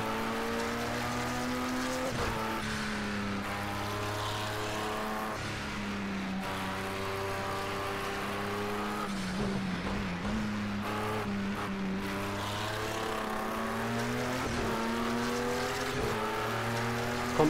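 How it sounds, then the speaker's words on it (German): A faster LMP2 prototype race car in Project CARS 2 closes in during a sports car championship race, its steady high engine drone running loud and continuous for the whole stretch, with pitch shifts through gear changes and a brief swell as it draws near. "Schnellerer Wagen nähert sich."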